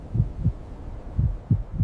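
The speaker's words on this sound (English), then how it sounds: "My heartbeat felt louder than the storm outside." Heartbeat sound effect: low, muffled double thumps pulsing in a steady rhythm, close and soft, with nothing else around them.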